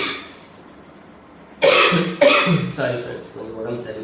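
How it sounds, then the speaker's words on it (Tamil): After a quiet start, a burst of several harsh coughs rings out close by, followed by throat clearing. "இருமல்."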